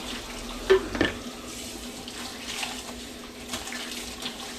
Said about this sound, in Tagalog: kukuha tayo ng tubig na malamig